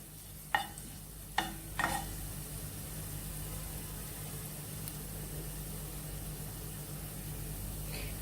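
Garlic and onion fry in oil in a pan while a spatula scrapes three quick times early on, then a soft steady sizzle continues quietly under a low background hum.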